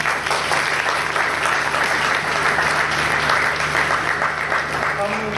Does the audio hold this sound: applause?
yes